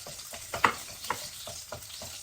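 Garlic fries in a pan for chopsuey, giving a soft sizzle broken by several sharp scraping stirs at irregular intervals, heard close and fairly quiet, with no talking.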